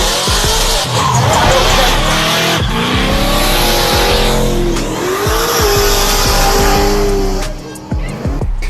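1971–1973 Chevrolet Impalas peel out of a car show with loud, sustained engine roar and squealing, skidding tires, revving and shifting pitch throughout with brief lulls, surrounded by faint crowd noise.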